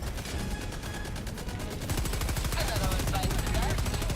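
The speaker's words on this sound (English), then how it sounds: "Ooh, good cluster bomb." Cluster bomb explosions in Helldivers 2 come as a dense rapid rattle of many small blasts, building louder midway and continuing steadily over busy game sound.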